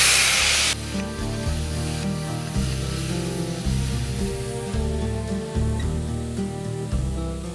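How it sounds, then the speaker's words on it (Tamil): Boiled chickpeas drop into a hot tempering with curry leaves, setting off a bright burst of sizzle that settles into a steady, close hiss of frying over a low hum. "இப்போ நம்ம அந்த வேக வச்சு வச்சிருக்கிற சன்னா அதாவது அந்த கடலைய போட்டுறோம்."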